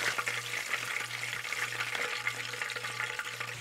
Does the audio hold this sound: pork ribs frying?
yes